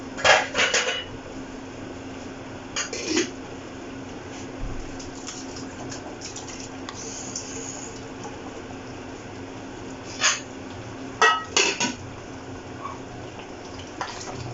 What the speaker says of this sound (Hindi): अब जो मैंने टमाटर का पेस्ट बनाया था ऑयल में, वो अब हम इसमें ऐड कर देंगे।